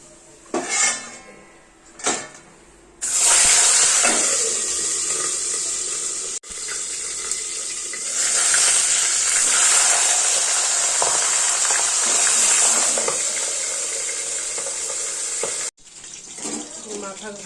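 Katla fish heads drop into hot oil after a couple of clattering knocks, then a loud, steady sizzle hisses for around twelve seconds before it stops abruptly.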